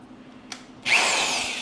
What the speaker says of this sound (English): So we're going to go ahead and take the drill,